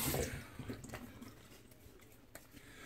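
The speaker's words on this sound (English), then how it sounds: "let me get rinsed off" Tap water runs and splashes while someone rinses off after a shave, close and moderately loud at first before settling into a quieter steady flow with a few drips.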